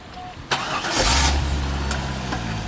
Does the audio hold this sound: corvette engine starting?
yes